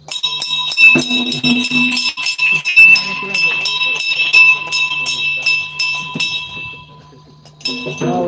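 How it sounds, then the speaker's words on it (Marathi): A temple bell rings repeatedly in quick, uneven strokes, bright and close, with voices and other noises mixed in. "घंटी वाजवा"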